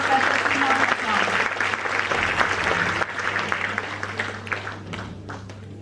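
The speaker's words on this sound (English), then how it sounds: "give a big round of applause for Professor Simon Otama." Conference audience applauding a speaker, a dense wash of clapping at full strength that gradually thins and fades over six seconds, with a low steady hum underneath and some voices mixed in.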